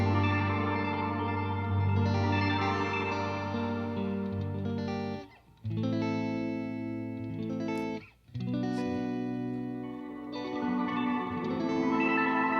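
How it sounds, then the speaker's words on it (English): Guitar chords ring through a BOSS RV-200 reverb pedal as the reverb fades in and out, sustained washy tones cutting off abruptly twice before swelling back. "It fades the reverb sound in and out."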